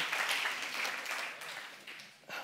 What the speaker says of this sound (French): Joël, on peut l'applaudir, hein?